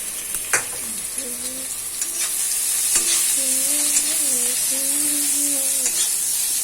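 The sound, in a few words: onions frying in a pan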